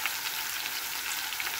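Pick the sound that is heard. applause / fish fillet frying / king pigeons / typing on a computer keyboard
fish fillet frying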